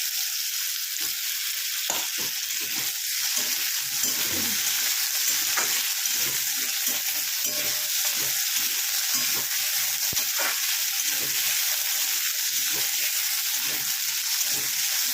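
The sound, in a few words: potatoes frying in a pan for drumstick curry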